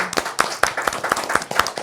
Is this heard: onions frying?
no